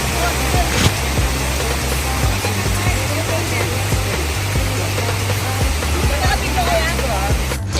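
Waterfall in South Cebu, an even, full rush of falling water with a low rumble underneath, continuous and fairly close throughout.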